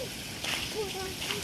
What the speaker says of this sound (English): So this is a small waterfall, a minion waterfall.